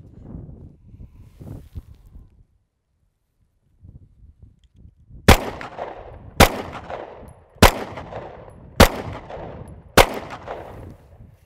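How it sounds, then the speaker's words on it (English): Five loud, sharp gunshots from a Sig Sauer P320 pistol fired after being dropped in desert sand, spaced about a second apart, following a stretch of quiet outdoor rustling and wind. "now we're gonna go ahead and put 5 rounds downrange."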